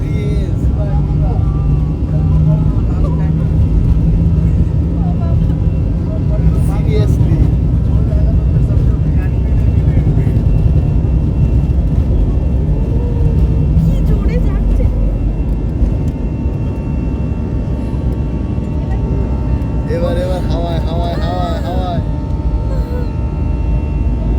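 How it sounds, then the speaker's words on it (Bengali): Airliner cabin during a runway takeoff roll in Dubai: steady loud engine and rolling roar fills the whole clip, with people talking over it. "এক করে টেক আপ করবে জাস্ট রানওয়েতে আছে স্পিড দেখ মাম্মা স্পিড দেখ"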